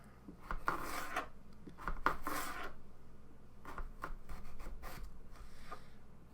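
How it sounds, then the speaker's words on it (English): A knife slices through potatoes for fries with several short, scraping cuts, close and fairly quiet, in a home kitchen. "we'll cut them in half"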